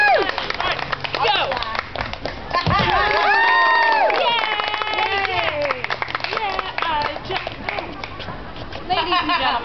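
A crowd at a Renaissance fair sword fight cheers, whoops and claps near and loud, with shouted voices rising over the applause and talk mixed in before the cheering picks up again at the end.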